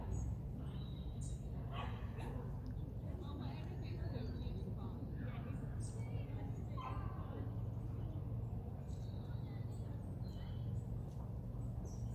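Several small dogs yap and yip now and then in the background at Dale End Park in Coalbrookdale, Telford, set against a steady outdoor rumble with voices nearby.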